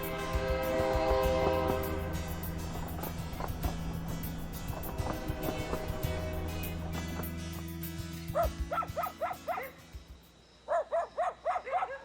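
The 5633 slow train to Xichang stands at its starting station in Sichuan's Daliangshan before dawn, a sustained harmonic engine and horn drone filling the air, then a dog barks in repeated sharp bursts nearby as it fades.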